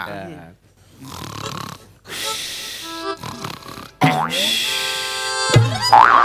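A man on a Marathi comedy show stage snores exaggeratedly in loud, rasping bursts with snorts and grunting breaths, broken by pauses, talk and comic sound effects.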